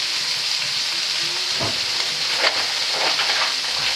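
Lardons sizzling and frying in a pan for a crustless quiche, with a light dusting of flour added; a continuous close crackle with a few louder pops and stirring scrapes, no voices.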